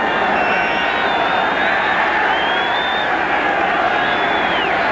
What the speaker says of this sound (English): This is not a noisy crowd, in part because of the build of this stadium